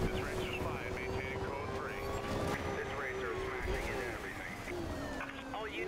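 Police helicopters circle overhead during a high-speed Hot Pursuit chase in Need For Speed Rivals with a Ferrari FF, a steady droning rotor hum mixed with engine roar and game sounds beneath someone talking.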